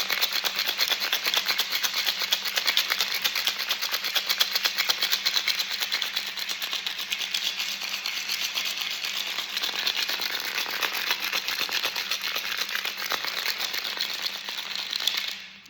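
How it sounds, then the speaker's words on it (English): A handmade rattle built from found objects is shaken in a continuous dense shimmer of tiny clicks that lasts about fifteen seconds, close and fairly loud, with no talking. "Just take a little rattle here."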